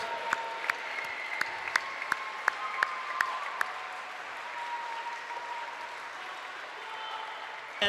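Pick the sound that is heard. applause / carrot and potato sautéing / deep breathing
applause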